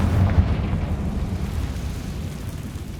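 A Confringo blasting spell goes off in Hogwarts Legacy, a heavy low boom with a sharp thump early on, then a long rumbling decay, close and loud with no speech.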